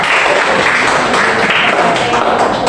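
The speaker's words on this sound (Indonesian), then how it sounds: "Oke, tepuk tangan untuk teman-teman kita." Loud, close applause from students in a classroom for their classmates, dense and unbroken across the short stretch.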